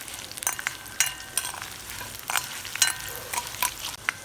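A tempering with curry leaves crackles in hot oil in a pan for katte pongali, a busy, close sizzle broken by repeated sharp pops and stirring scrapes throughout.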